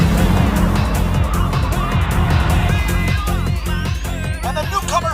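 Race car number 86 roars loudly as it blazes downhill at Odawara Peak during a qualifier, its engine note rising and falling through gear changes and ending in fast, revving bursts.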